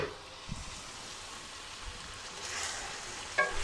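Chicken frying in a karahi for white chicken karahi, a soft steady sizzle with a few stirring scrapes and clinks of a utensil against the pan.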